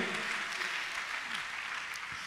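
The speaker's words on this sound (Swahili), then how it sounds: "Nisaidie kumpigia Jehova na makofi yanayoeleweka ya shangwe." A church congregation claps in a dense, continuous round of applause that stays steady and fairly loud throughout.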